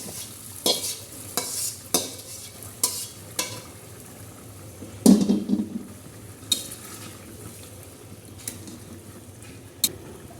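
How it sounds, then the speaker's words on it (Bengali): A spoon stirs mutton curry with fried onions in a pan, the dish being mutton bhuna with pointed gourd and potato. A series of close, sharp scrapes and clinks repeats at an uneven rhythm, with a loud burst midway over a low background hum. "এরপর নাড়াচাড়া করে সামান্য ভাজা জিরার গুঁড়া ছিটিয়ে দিলাম"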